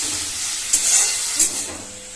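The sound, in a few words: chopped onions frying in a pan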